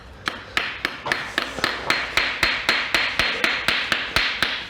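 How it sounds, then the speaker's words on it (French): A farrier's hammer taps the clinches of nails on a freshly nailed horseshoe: about eighteen sharp, evenly spaced metallic strikes, close and loud, with no talking. "Une fois que le fer est cloué, je peux taper les pinceaux."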